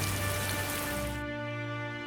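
Rain and storm in a Hindi animated moral story: steady, dense rainfall patter that stays loud and close, then its hiss abruptly thins out while a low rumble carries on.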